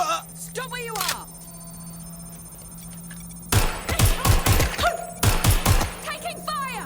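Bursts of automatic gunfire in the action game Watch Dogs Legion, two loud rapid volleys in the second half after a quieter stretch of electronic game sounds and a spoken line.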